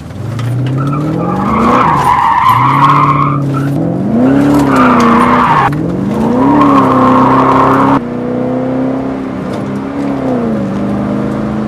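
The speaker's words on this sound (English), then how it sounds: "If you floor it, it shifts every time it gets to the red line." An older Mercedes car accelerates hard at full throttle, its engine note climbing loud and close through several rising sweeps, each broken by a brief dip as the automatic shifts up, with tire squeal near the start.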